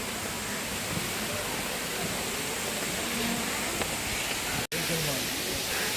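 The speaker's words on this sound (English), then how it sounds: "Another waterfall we can see ahead." Continuous rushing water roars steadily like a waterfall, broad and unbroken, with a brief dropout near the end.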